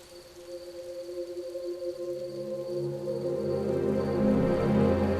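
Steady rain falling outside a house, a soft hiss that slowly swells louder, with a low sustained humming tone running beneath it and no voices.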